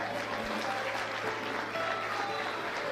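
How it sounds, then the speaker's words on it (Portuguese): A church congregation applauds in praise of Jesus, a full continuous clapping that fills the space evenly from start to finish, with a faint voice or two mixed in underneath. "Os que podem, tomem seu assento, aplaudindo a Jesus"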